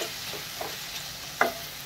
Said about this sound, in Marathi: आता परतून घेऊ परत एकदा